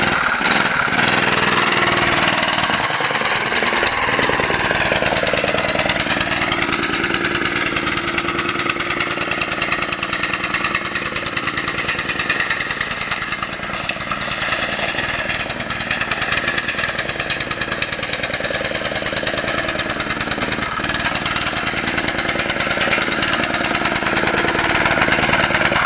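A neglected Honda GX160 minibike engine runs steadily and loudly for the whole stretch, a dense mid-range drone with knocking character, nearby and unbroken, with no talking over it.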